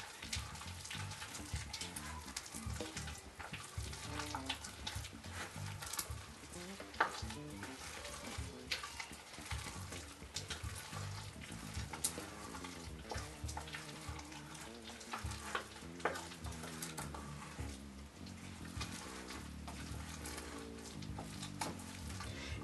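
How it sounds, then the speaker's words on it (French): Egg yolks are stirred into already cooked rice for a rum rice cake, making a steady, soft, wet scraping and stirring that runs on without a break. "vous mélangez les jaunes avec le riz qui est là, qui est déjà fait. On continue à remuer."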